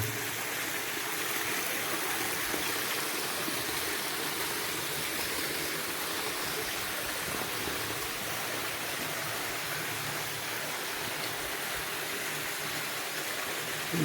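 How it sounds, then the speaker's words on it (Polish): Water pours hard inside a tunnel under Kowary Pass, a steady, dense rushing roar that fills the space at a constant loud level for the whole stretch, with no voices. "zawsze tak ta woda ostro się leje"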